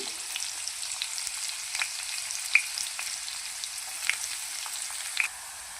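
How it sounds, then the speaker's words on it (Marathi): Finely chopped onion fries in a pan until brown, giving a steady, even sizzle with scattered faint pops and crackles and no talk. "बारीक चिरलेला कांदा टाकून घेऊया कांदा मस्त ब्राऊन होईपर्यंत भाजून घेऊया"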